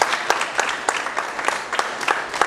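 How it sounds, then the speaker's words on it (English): Crowd applauding at a high school pajama day charity event, a close, steady round of clapping with distinct individual claps standing out through the wash. "So a big round of applause for everyone."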